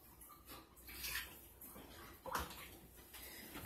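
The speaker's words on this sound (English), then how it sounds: "I left the water on, of course." Tap water runs into a sink during hot process soap making, a faint splashing flow that swells and fades with a few louder splashes as a cup is rinsed, no voices.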